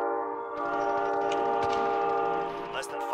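Train passing with a sustained loud horn blast in the video game Call of Duty: Modern Warfare, the chorded horn holding steady over rumbling wheels with a few sharp clanks near the end.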